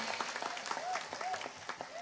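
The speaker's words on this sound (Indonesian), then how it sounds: "Tepuk tangan sepindah malih" An audience at an Islamic community gathering of Muslimat and Aisyiyah members breaks into applause, a brisk crowd clapping with a few faint whistle-like tones and voices mixed in beneath it.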